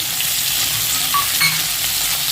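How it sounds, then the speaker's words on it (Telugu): Nalleru (veldt grape) stalks fry in hot oil, a dense, continuous close sizzle with faint stirring scrapes and no talking. "ఈ నల్లేరు కాడలు మాత్రమే ఆయిల్లో వేయించాలి."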